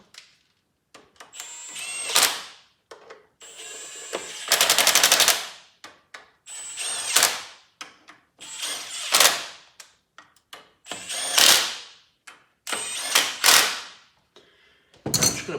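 A part on a golf cart engine with a valve stuck in the cylinder is tightened in a string of about eight rapid rattling bursts, each swelling and stopping, with short quiet gaps between them, close by.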